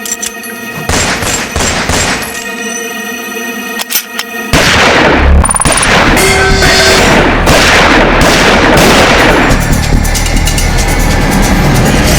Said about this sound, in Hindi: ये सबको गोली मार रहा है